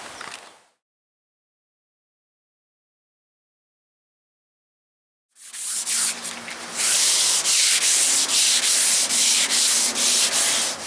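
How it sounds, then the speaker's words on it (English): Brief silence, then steady hand sanding on wood with 150-grit sandpaper begins, with rapid back-and-forth rasping strokes in a loud, even rhythm. "Now for some sanding."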